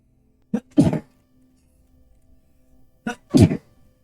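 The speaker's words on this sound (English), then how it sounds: "Big sneeze." A person gives two sharp, explosive sneezes a few seconds apart, each a quick catch of breath followed by a loud burst, close to the listener in an otherwise quiet room.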